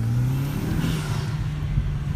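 A 2014 Kia Optima SX Turbo with a newly installed intake accelerating during a ride-along, a steady engine drone and whirring rising under cabin noise, heard from inside the car.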